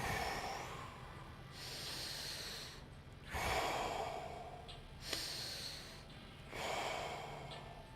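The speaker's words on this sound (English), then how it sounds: "So you're breathing in and you're breathing out." Slow, deliberate breathing close to the microphone, three long airy inhale and exhale cycles with soft pauses between them, quiet and unaccompanied by talk.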